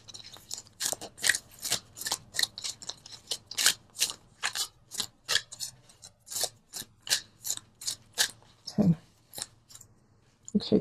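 Cards from a love oracle deck shuffled and pulled in a tarot reading, a steady series of sharp riffling snaps, close and fairly loud, in regular bursts about twice a second, with someone speaking briefly near the end.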